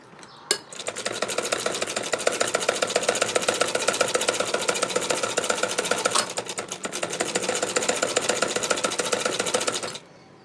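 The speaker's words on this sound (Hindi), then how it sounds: "और अब हम स्ट्रेट सिलाई चलाते हुए नीचे तक आ जाएंगे" A sewing machine runs a straight stitch down a ladies' kurti, giving a steady, rapid mechanical clatter that carries on for about nine seconds with one brief dip partway through.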